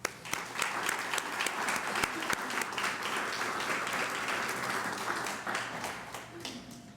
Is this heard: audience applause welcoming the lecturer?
yes